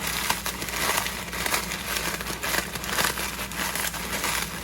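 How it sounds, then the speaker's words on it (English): Pie crust ingredients get crumpled and crushed inside a bag by hand, a continuous close crinkling and crunching rustle at moderate volume. "you just put them in a bag and you give them a good crumple"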